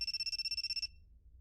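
Video game phone ringtone: a rapid electronic trill of about a dozen even beeping pulses, clear and fairly close, stopping abruptly after under a second and leaving quiet background.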